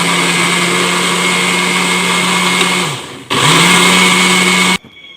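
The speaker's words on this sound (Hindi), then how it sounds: "हम ब्लेंडर चलाएंगे ताकि ये अच्छी तरह से पीस जाए" A kitchen blender grinds poppy seeds with a little water: a loud, close, high whine runs, stops briefly and winds back up, then cuts off abruptly.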